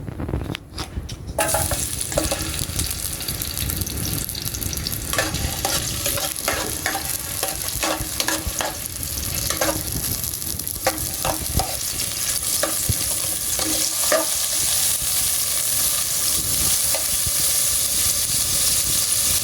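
Spices crackle and sizzle in hot cooking oil in a pan, a steady close frying hiss with scattered pops and light stirring scrapes running throughout, no voices.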